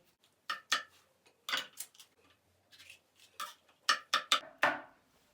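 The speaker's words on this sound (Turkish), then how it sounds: "Şimdi e, biberleri doğrayacağız." Sharp knife chops strike a cutting board while peppers are chopped, in quick irregular bursts, with brief pauses between groups of cuts, close and fairly quiet.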